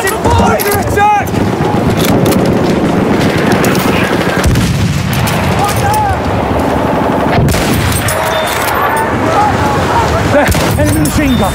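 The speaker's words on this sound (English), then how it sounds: "Enemy machine gun." Enemy machine gun firing in a Battlefield match, with bursts of automatic gunfire and booming explosions packed densely throughout amid battlefield chaos, while voices call out over the din.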